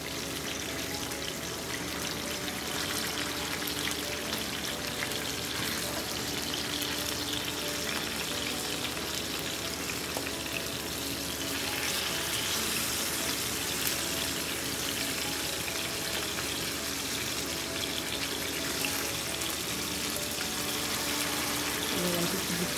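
Fish frying in a pan for Jamaican brown stew fish, with salmon in the pan, a constant close crackling sizzle of hot oil that holds steady and alone throughout.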